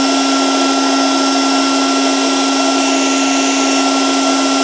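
A KKSevens magnetic induction heater heating a stuck nut gives a steady, loud electronic whine with a sharp tonal line and broad hiss, holding constant throughout and cutting off abruptly at the end.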